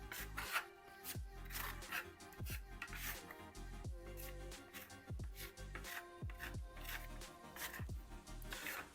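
A Venetian steel trowel drags decorative plaster coating across a wall in repeated rasping strokes, close and fairly quiet, each sweep a short scraping rub in an uneven rhythm with no talking.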